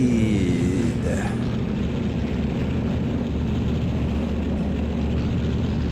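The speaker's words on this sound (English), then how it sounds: "these cars are very, very loud besides me" Loud vintage racing cars from a 1939 Eläintarhanajot race in Finland, recreated in the Assetto Corsa video game, drone steadily and densely close by, with an engine note sweeping upward at the start and no talk.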